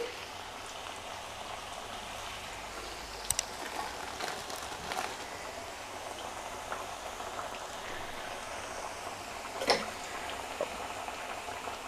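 Alasanda chekkalu, cowpea snacks for Sankranti, frying in hot oil with a steady, fine crackling bubble throughout, broken by a few sharper pops and one brief louder spatter near the end; no talking.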